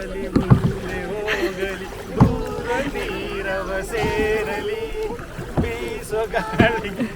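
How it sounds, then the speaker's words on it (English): A five-member team paddles a kayak on a river during a race on an office outing, with paddle strokes and water splashing under wind noise and steady background chatter and voices. "So we are doing kayaking now."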